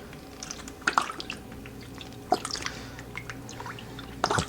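Worcestershire sauce is drizzled over the exposed top of a roast, giving soft wet drips and squishy splashes. A few sharper spatters stand out against a low background.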